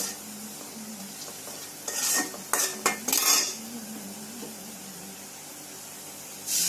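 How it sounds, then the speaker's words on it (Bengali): Chopped onion fried in hot oil with cardamom and cinnamon, a steady close sizzle with several sharp metallic spatula scrapes and clinks against the pan in the middle and at the end. "পেঁয়াজ কুচিটা দিয়ে একটু ভাজা ভাজা করে নিলাম।"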